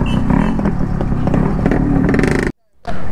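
Motorcycles idling and revving at the start of a group ride, with a loud, steady engine drone and a brief dropout near the end, while people talk over it.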